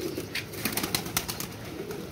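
Soft pigeon cooing, low and murmuring, with some faint rustling and flutter in the background from pigeons being trained; no voices.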